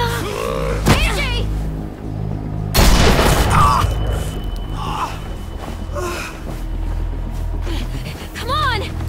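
Loud gunfire bursts out in The Walking Dead: The Final Season game scene, a sudden heavy blast amid tense music, with voices shouting and gasping around it.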